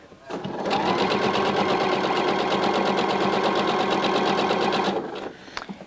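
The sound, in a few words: sewing machine stitching the side seam of a skirt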